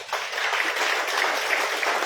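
A church congregation applauds continuously during a Sunday service, a bright wash of many hands clapping for a couple of seconds.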